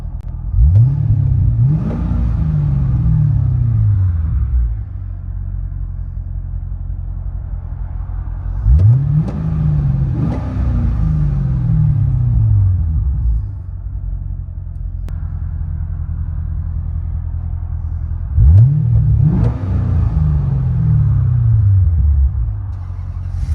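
A 2009 Chevy Corvette Z51 with a 6.2L V8 and Valvetronic Designs exhaust, valves closed, is heard from inside the car. Three loud revs rise sharply and fall back to a deep steady idle rumble, with no talking.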